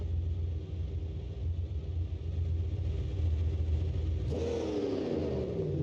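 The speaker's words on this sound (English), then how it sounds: "we got all the smoke in the world out of a diesel with pipes. Listen to that idle." A diesel monster truck engine with stack pipes idles steadily in BeamNG.drive, a loud continuous low rumble, then revs briefly near the end before settling into a falling, rougher idle.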